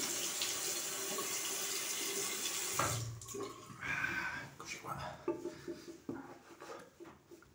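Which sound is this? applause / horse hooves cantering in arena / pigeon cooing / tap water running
tap water running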